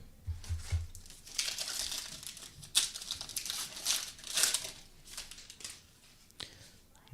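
A baseball trading card from a Topps Archives pack is slid into a plastic sleeve and then a rigid top loader, giving close, repeated crinkly plastic rustles and scrapes in bursts.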